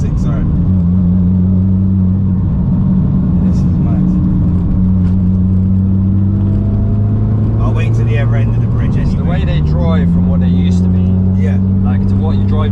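Interior cabin noise of a tuned 630 bhp Mitsubishi Evo 9 on the move, a loud steady engine drone with pitch shifts as revs change, while people talk over it.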